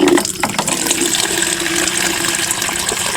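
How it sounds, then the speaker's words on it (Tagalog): Water is poured into a container on a farm, a steady close splashing and trickling sound that runs unbroken for a few seconds. "Lalagyan ko na ng tubig."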